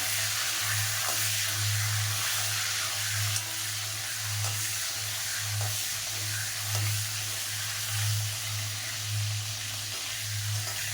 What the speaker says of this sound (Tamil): கத்திரிக்காய் தேவையான உப்பு. இதே வதக்கிக்குவோம்.